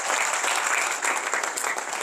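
Steady, dense applause from a crowd at a 50th anniversary ceremony, sustained throughout with no voices standing out.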